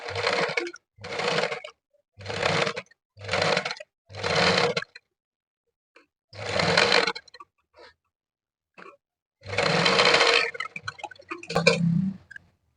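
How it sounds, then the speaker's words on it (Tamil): A sewing machine stitches a blouse in short bursts of rapid mechanical whirring, five quick runs followed by a pause, then a longer run, each starting and stopping abruptly in a quiet room. "இப்ப நம்ம கரெக்டா சென்டருக்கு நேரா ஒரு தையல் போட்டுக்கலாம்"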